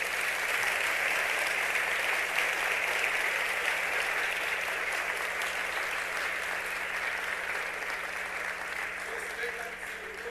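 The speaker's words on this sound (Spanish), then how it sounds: "un fuerte aplauso a sus hermanos en el mundo entero" A congregation at a church sermon in Tegucigalpa, Honduras, applauds in a dense, continuous wash of clapping heard from some distance, with voices mixed into the crowd noise.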